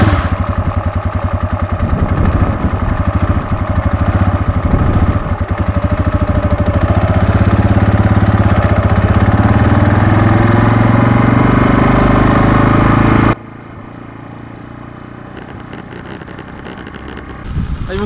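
A motorcycle engine idles with a steady, loud rumble for several seconds, then cuts off abruptly, leaving quieter background noise and a brief later revival.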